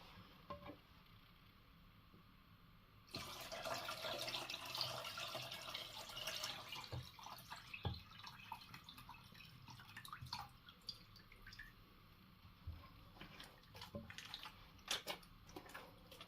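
Water is drained off homemade country butter, starting with a sudden rush of running liquid and settling into scattered drips and trickles, fairly quiet and close, with no talking.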